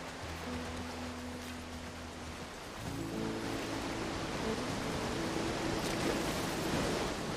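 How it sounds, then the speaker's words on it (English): A waterfall in The Last of Us Part 1 plays as a steady, broad rush of falling water that grows slightly louder partway through, with some low tonal background music at the start. "Yeah, that's a nice waterfall."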